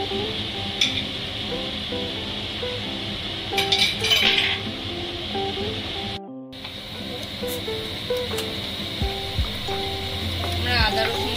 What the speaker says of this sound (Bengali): আমরা আদা রসুনটা পেঁয়াজের সাথে 2 মিনিট মতন ভালো করে নাড়িয়ে নিয়েছি।